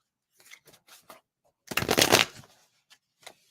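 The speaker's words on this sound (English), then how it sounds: "Let me pull out a couple cards for you." Tarot-style cards are shuffled and pulled for a reading: a few soft flicks, then a dense riffle burst around the middle, followed by scattered light card snaps.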